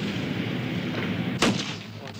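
A single loud gunshot cracks out during shooting target practice, close and sharp, rising briefly above a steady background rumble.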